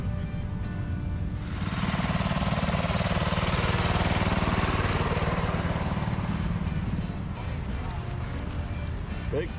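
A Toro lawn mower engine runs at a spring swap meet in Portland, Indiana, rising after a second into a loud, steady, rattling drone that continues throughout, with voices in the background.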